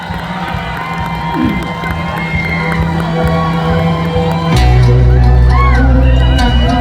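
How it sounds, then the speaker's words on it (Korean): A large outdoor festival crowd cheers and shouts for a singer, a loud sustained roar that swells louder midway, with a low hum beneath. "큰 박수 부탁드리겠습니다."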